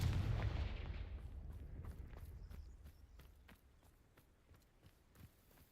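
Confringo blasting spell cast in a Harry Potter video game, a heavy booming blast that rumbles and fades over several seconds, followed by a string of sharp crackling pops and impacts at close range.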